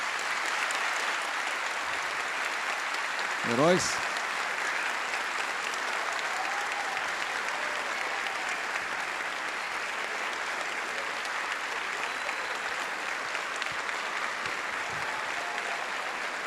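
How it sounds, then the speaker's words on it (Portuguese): Sustained audience applause fills a Brazilian corporate event hall, a dense steady wash of many hands clapping that holds evenly throughout, with a brief voice and a rising tone cutting through near the start. "eu queria aqui uma salva de palmas para esses"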